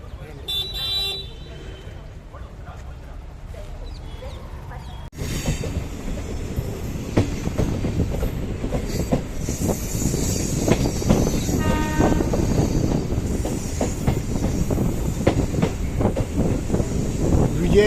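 A train rumbles along the rails near Vijayawada with rhythmic clacking that grows louder after a sudden shift, steady and close throughout, with voices faintly in the background.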